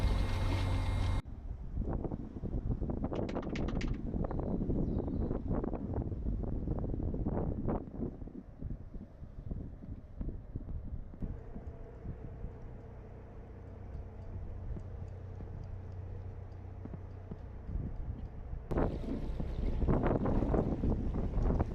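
A narrowboat's engine chugs steadily at low pitch beneath wind buffeting the microphone, with occasional knocks and splashes along the canal.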